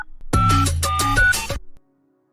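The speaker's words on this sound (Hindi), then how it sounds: "एक दिन सोनिया ने निखिल को फोन किया" A cartoon telephone rings in a short burst of bright electronic chiming tones, loud and close, then cuts off to near silence.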